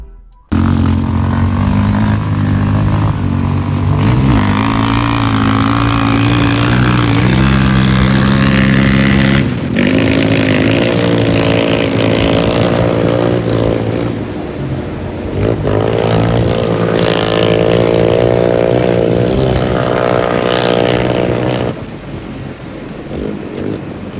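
A Yamaha Raptor 700 quad with a fully rebuilt stage 3 engine being ridden: loud, close, continuous engine note that rises and falls through repeated revving for over twenty seconds, with no talk.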